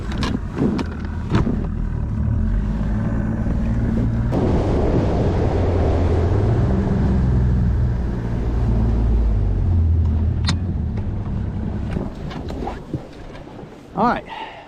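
Bass boat outboard motor running across a lake between fishing points, a loud steady roar building after a few knocks and splashes, with wind and water noise, then easing off near the end.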